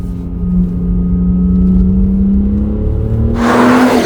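An Alpina D5 BiTurbo diesel engine idles and hums steadily close by, then revs up sharply near the end with a rising roar and a hint of tire noise. No one speaks.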